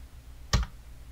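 A single firm keystroke on a computer keyboard, likely the Enter key after timecode digits are keyed into video editing software, sounding as one close, sharp click with no voices around it.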